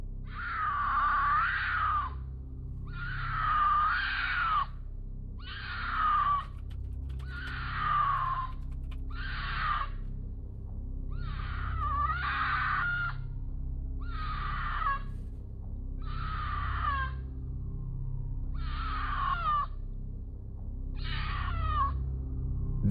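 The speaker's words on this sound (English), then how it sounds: "The pitch of the second scream in the OP's recording in particular is a lot more human-like than something coming from an animal." About eleven evenly spaced, high, harsh screams come from the Yellowstone wilderness, each lasting roughly a second, over a low constant background hum.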